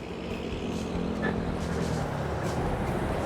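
Ten-wheeler trucks pass along a road in Tondo, Manila, producing a continuous rumbling engine and tire noise at moderate distance, with faint voices in the background.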